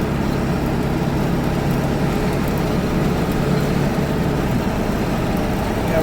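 A cheap diesel pickup truck cruises down the road, a steady, loud, low engine rumble mixed with road and wind noise from inside the cab, unbroken throughout.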